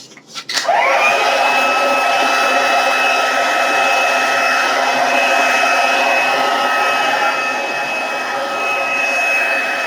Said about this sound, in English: Let's get the dryer on again.